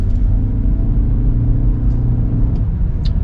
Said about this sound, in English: Now let's get our acceleration here.